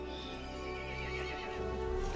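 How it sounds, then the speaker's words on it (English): A horse neighs loudly and close in the intro of the Resident Evil Village video game, a single drawn-out whinny with a rough, quavering tone over a low rumbling backdrop, with no talking. "The horse grew angry and summoned the other monsters."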